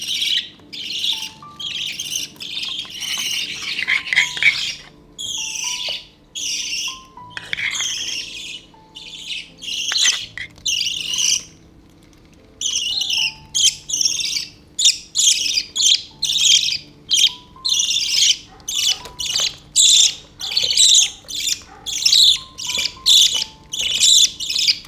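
Baby budgies kept in a transparent container chirp and squawk in rapid, repeated high bursts, close and loud, with short pauses between clusters and no talk.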